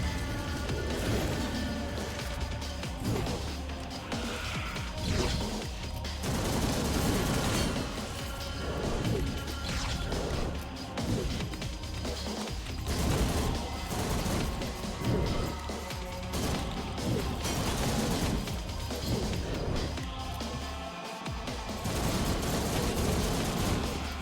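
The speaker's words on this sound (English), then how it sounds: "Machine gun." Rapid machine gun fire from the arcade-style video game Demon Pit, dense and continuous with crashing impacts and explosions layered over a steady game soundtrack.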